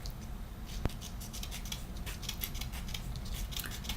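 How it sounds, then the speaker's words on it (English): Scissors snip and trim around a small paper circle for an ornament, giving a quick run of close, crisp cuts and light paper rustling without any talk. "So I'm just going to trim around the circle, make it a little smaller."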